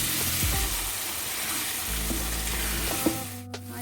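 Masala with turmeric and dry coriander frying for chicken karahi in a pan, a continuous bright sizzle with occasional stirring clinks and scrapes, close, no speech.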